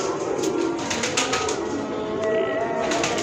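A golden pigeon coos softly nearby in short, low murmuring calls, with a faint rustle and background noise; a person talks lightly over it.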